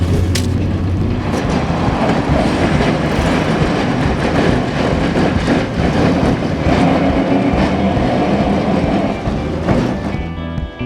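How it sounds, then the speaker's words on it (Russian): A tram pulls away en route to a city square, filling the space with a loud, continuous rumble of wheels and rattling car body, with occasional clanks and no voices. "Трамвай начинает движение."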